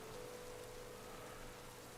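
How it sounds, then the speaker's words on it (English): Steady rain hisses and patters continuously in a Pokémon video game battle, quiet and uniform with no voices over it. "Pelipper is kind of here just to set up rain and wind."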